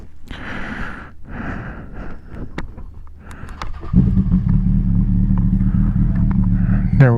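Suzuki GSX-R 750 motorcycle fitted with a Two Brothers exhaust, its engine rising to a steady loud drone after a few seconds of quieter shuffling and clicks, close by.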